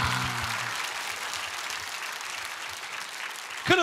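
An indoor audience at a political speech bursts into sustained, dense clapping that holds steady for several seconds, with a brief voice at the end.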